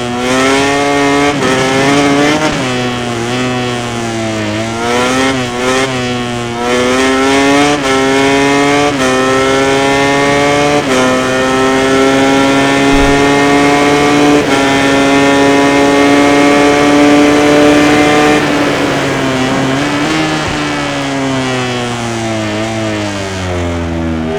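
Racing motorcycle engines from a MotoGP game on PS4 at the Catalunya Grand Prix, a loud continuous high-revving whine that rises and drops with gear shifts throughout, no voices over it.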